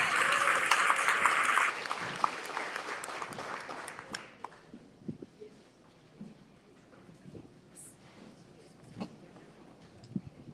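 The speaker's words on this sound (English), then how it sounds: "And give yourself a round of applause for coming out on Saturday morning." An audience at a mayoral candidate forum claps loudly for under two seconds, then the applause fades into scattered claps, rustling and room noise.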